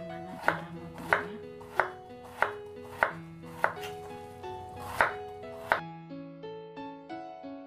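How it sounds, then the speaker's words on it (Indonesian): A knife thinly slices bitter melon (pare) in a steady series of about nine crisp chops, evenly spaced and close, over soft background music. "Ini saya potong tipis saja."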